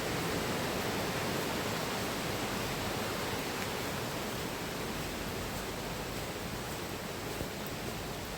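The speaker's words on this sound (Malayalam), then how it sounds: "എവിടെ നടന്നാലും വെള്ളത്തിൻ്റെ സൗണ്ട് കേൾക്കാം." A stream rushes steadily through Dean Village, an old industrial village with residential cottages, as a constant loud wash of flowing water with no pauses or voices.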